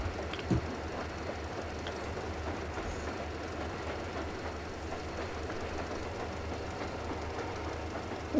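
A train rolls along in the video game Metro Exodus, a continuous low rumble with faint rhythmic clacking of the wheels that holds steady throughout, with no voices over it.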